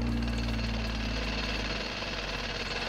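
A video game jackhammer rattles in a fast, steady hammering burst, loud and close, running continuously with a low mechanical rumble beneath it.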